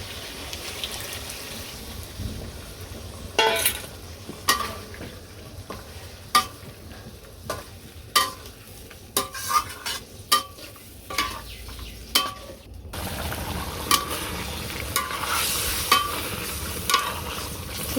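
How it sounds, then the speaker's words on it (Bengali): Meat sautéed with sour yogurt and spices in a pot over a village cooking fire, a low sizzle with irregular ladle knocks and scrapes, then a louder hiss as liquid goes in near the end, close by with no talking. "ভালো করে মাংসটা কষাইতে হবে"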